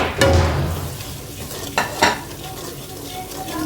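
Spices frying in a lobia masala gravy, a soft sizzle broken by a few sharp spoon scrapes and pan knocks against the pot, with no voices.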